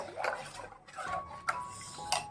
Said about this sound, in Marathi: चांगल्या पद्धतीने असं हलवून घ्यायचं आहे